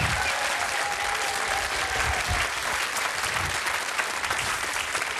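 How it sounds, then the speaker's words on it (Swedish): A studio audience on a Swedish bingo lottery TV show gives warm applause to former footballer Teddy Lucic, dense steady clapping from a large crowd that holds at even loudness throughout. "Ge honom en varm applåd"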